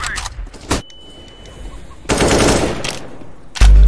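A few sharp gunshots in CS:GO, separated by quieter gaps, with a loud noisy stretch in the middle and a heavy final shot at the end.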